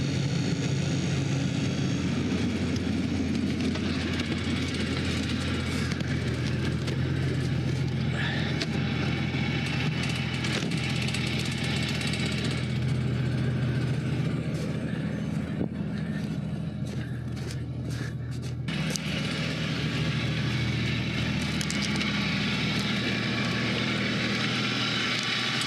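An abandoned monster truck's engine idles at a steady RPM, a loud continuous low rumble with constant tone, close and alone without talk.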